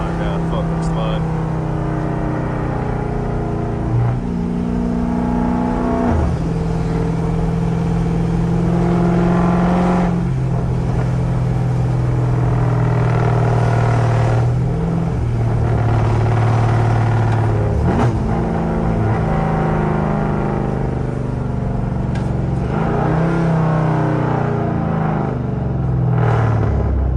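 A Gen 2 Dodge Charger with a swapped 392 engine drives at night, its deep rumbling exhaust rising and falling through repeated gear changes and throttle bursts, loud and close throughout, with a voice talking at times.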